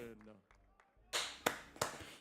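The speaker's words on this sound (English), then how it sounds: "Don't know why we're clapping" A small audience claps in short bursts at a boxing weigh-in, the claps sharp and close, with a few distinct loud hits after quieter talk-like sounds at the start.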